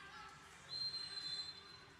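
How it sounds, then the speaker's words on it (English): A referee's whistle shrills during an indoor soccer match between the Dallas Sidekicks and Baltimore Blast, one sustained high blast lasting under a second amid crowd and arena noise. "And the official blows his whistle on the other side here."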